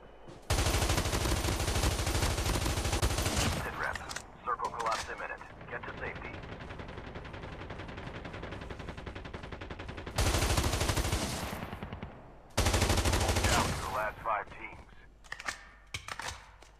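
AK-117 fire in the mobile shooter Call of Duty Mobile during a battle royale match: long, loud sustained automatic bursts with short pauses between them, fairly close, with a voice apparently talking underneath.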